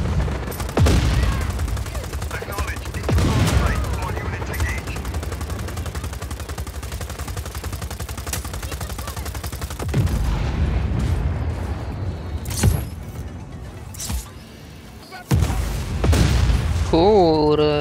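Bursts of gunfire and heavy booming explosions from a helicopter attack in the video game Just Cause 4, loud and close, with rapid automatic fire rattling between large blasts and someone speaking over the chaos.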